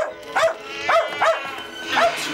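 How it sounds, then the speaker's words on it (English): A dog barks close by, four sharp yips spaced across a couple of seconds, with no talking. "Out you go, you naughty dog."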